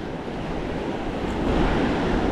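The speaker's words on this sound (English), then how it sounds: "here's a perfect little example of a rip current. You guys can see these waves." Ocean waves at a beach with a rip current, a steady broadband roar of surf washing in and drawing back out to sea, loud and continuous with wind buffeting the microphone.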